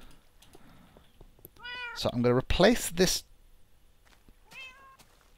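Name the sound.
cat meowing in Minecraft video game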